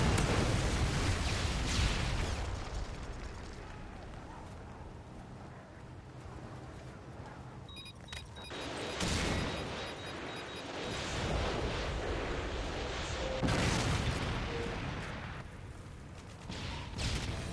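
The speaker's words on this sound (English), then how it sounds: "Friendly Predator missile inbound." A Predator missile strike in Modern Warfare 3 gameplay, with a dense roar of blasts and debris, several booming surges and rumbling swells over about seventeen seconds, loud and chaotic, without speech.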